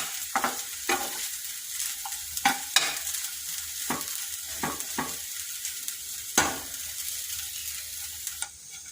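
Leftover idli upma being stirred in a hot pan gives a soft continuous sizzle broken by several crisp spatula scrapes and taps against the metal, close and unaccompanied by speech.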